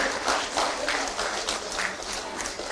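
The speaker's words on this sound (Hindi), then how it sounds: "तालियां आपकी तरफ से स्वागत स्वरूप जोरदार होती रही।" An audience at a sports policy launch ceremony applauds to welcome a guest, with dense, steady clapping from a crowd that rises and falls slightly in waves.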